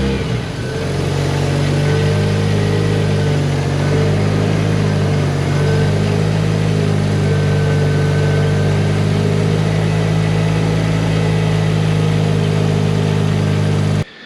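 A Mazda RX-7 FC3S rotary engine runs steadily close by, a loud continuous hum with a smooth, even drone that holds the whole time before cutting off at the very end, with no voices.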